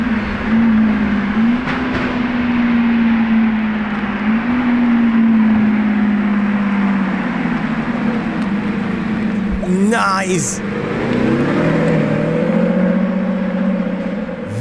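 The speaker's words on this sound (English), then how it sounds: "Very loud Revuelto." A loud Lamborghini Revuelto engine drones steadily at a Lamborghini meet, its note rising and falling through revs over the full span while a voice briefly speaks and other crowd noise sits underneath.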